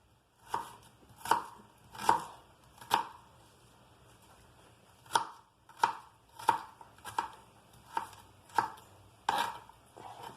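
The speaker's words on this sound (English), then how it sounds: "I do my onions like this because it's easier to slice" Knife chopping onions on a cutting board in a home kitchen while preparing Mexican-style beef steak, about a dozen sharp, fairly regular thuds with a short pause partway through, close and clear with no talking.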